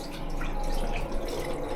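Lukewarm water runs steadily from a hotel bathroom sink tap, a soft continuous trickle with faint dripping, close and quiet, with no voices.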